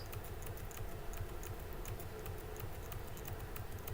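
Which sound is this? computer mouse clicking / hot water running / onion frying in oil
computer mouse clicking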